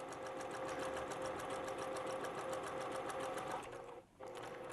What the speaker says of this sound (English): Make sure you're not accidentally stitching parts of the leg anywhere you don't want it.